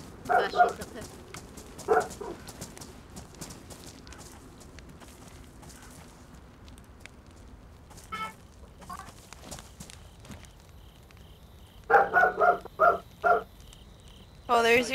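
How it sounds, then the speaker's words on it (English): A dog barks in the survival video game DayZ, set in Chernarus, giving a few sharp yips spread across the scene among footsteps and game sounds, with people talking over it. "Oh, there's your dog."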